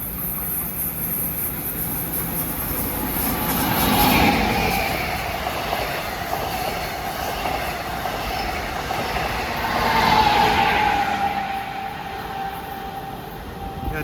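LIRR train 513, Oyster Bay to Penn, passes Forest Hills station in the morning rush, a steady rumble of wheels and cars rolling by with two swelling passes of louder squeal and clatter.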